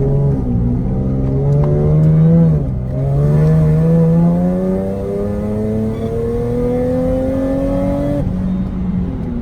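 A Whipple-supercharged Nissan 370Z fitted with leaking test pipes, heard from inside while driving. The engine drones loudly with a clear rising pitch as it accelerates, and the tone dips briefly at a shift.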